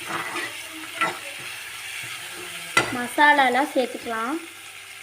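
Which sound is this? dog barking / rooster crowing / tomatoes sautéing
tomatoes sautéing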